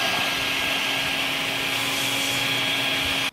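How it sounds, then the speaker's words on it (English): A makeshift vacuum blower roars steadily, blowing air to cool a drill: a loud, continuous broadband whoosh with a faint whine, running alone for about three seconds before cutting off abruptly. "we've got our makeshift vacuum blower, and we're going to air cool the drill."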